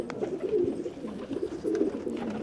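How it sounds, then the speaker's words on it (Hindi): Domestic fancy pigeons, a black and white danda mar variety, coo nearby in a steady layered burble that rises and falls in soft waves, with no voices over it. "साफ़ सुथरा कबूतर है बिल्कुल।"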